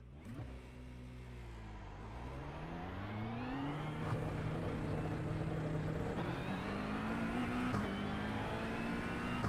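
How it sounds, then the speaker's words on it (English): A McLaren GT3 race car engine in a racing video game at Road America drones loudly and steadily, its pitch climbing through gears as it accelerates, with no talk over it. "The mighty McLaren,"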